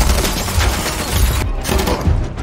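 Mafia henchmen in a film spray a man with gunfire: a dense, continuous barrage of overlapping shots and booms, loud and close throughout.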